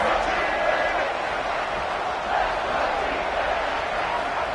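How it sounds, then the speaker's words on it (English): Stadium crowd in a Madden football video game gives off a steady, loud roar of cheering that holds throughout without pause, with commentary faintly beneath. "The crowd elevating its energy, willing this defense to get a stop on this big 3rd down."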